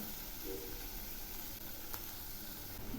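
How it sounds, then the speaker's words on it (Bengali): Ground spices are being fried down in oil for a boal fish curry, giving a steady close sizzle throughout with a faint brief scrape partway through, and no voices. "মশলাগুলো আর একটু কষাবো। মশলা কষানো প্রায় হয়ে আসছে, মশলাগুলো থেকে তেল ছেড়েছে।"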